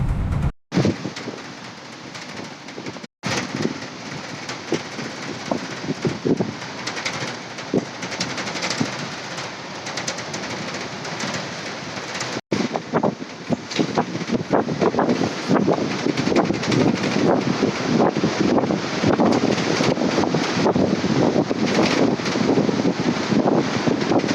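Strong storm wind in Albania roars and buffets the microphone continuously, with gusting surges and rumbling noise throughout.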